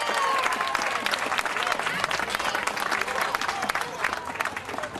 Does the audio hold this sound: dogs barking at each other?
no